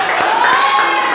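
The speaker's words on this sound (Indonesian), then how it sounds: "Yo, tepuk tangan." Students in a classroom clap for the winning group, a brief, close burst of hand claps mixed with excited voices and cheering.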